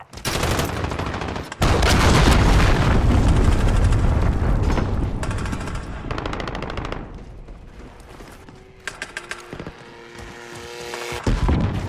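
Heavy battle noise from the Call of Duty: Modern Warfare video game, with a dense, loud roar of explosions and rapid machine-gun fire that fills nearly the whole stretch and thins briefly before a final burst.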